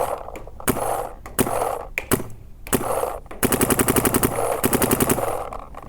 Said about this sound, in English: So I just want to see if this gun will shoot it.